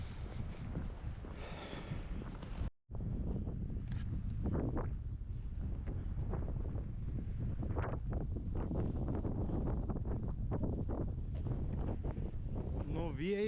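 Strong wind buffets the microphone on a coastal hike between Klaipėda and Palanga, a steady loud roar that drops out briefly near the start and then carries on unbroken.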